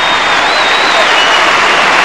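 Arena crowd of about 8,000 at a basketball game between the Perth Wildcats and Melbourne Tigers, applauding loudly and steadily as a player leaves the court, with a commentator speaking over the clapping.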